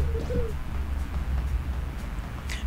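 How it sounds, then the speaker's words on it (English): A pigeon coos in the Katamari Damacy video game, a short soft warbling call near the start, set against a steady low game hum and background music. "Pigeon."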